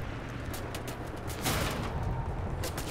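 A mounted gun fires a rapid burst in the video game Wolfenstein: The New Order. The crackling shots are dense and continuous, with a louder burst midway and no talking.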